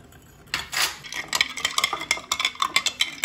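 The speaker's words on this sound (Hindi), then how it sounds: "मिक्स कर लें इसको" A spoon stirs peach iced tea in a glass, a quick run of light rhythmic clinks and swirls that starts after a brief pause and continues steadily to the end.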